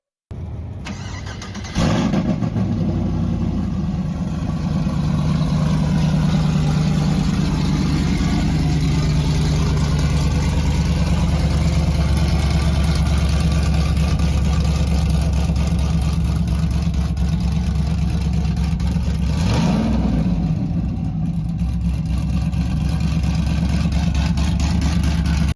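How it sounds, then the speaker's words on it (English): A pickup truck engine with a full 3-inch stainless exhaust, Borla mufflers and QTP cutouts exiting out the side of the bed, starting up, then idling loud and steady at close range with a brief rev near the end. "Full 3-inch stainless exhaust system featuring Borla mufflers and QTP cutouts."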